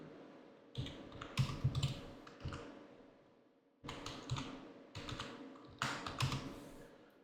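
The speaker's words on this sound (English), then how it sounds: "I'm just gonna type in dummy story." Typing on a computer keyboard, bursts of quick close key clicks and taps separated by short pauses, with no talking.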